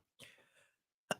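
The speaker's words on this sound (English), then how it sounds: "let me clear my throat" A single quiet throat clearing, a short rasping burst followed after a pause by two sharp clicks or coughs close to the microphone, with no talk.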